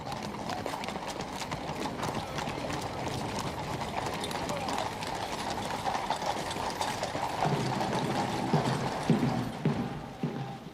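Horse-drawn carriage in a royal state procession, hooves clip-clopping steadily at moderate distance with rattling wheels and mechanisms, continuous throughout amid crowd and background voices.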